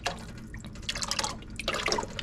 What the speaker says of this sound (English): I'm gonna have to add a little bit more Italian dressing